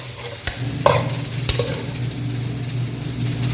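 Cinnamon and cloves sauté in a pan for chicken biryani, making a loud, steady sizzling hiss with a few light clicks of stirring against the metal.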